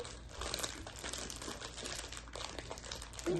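A candy package wrapper crinkles steadily as it is worked open, a dense, continuous rustling close by that carries through the whole stretch without pause.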